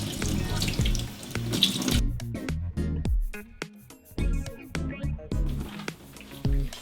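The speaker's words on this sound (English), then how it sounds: "Cold water rinse." Cold water runs from a tap in irregular bursts as a freshly dyed disc is rinsed under it, splashing and gurgling close by, with stops and restarts.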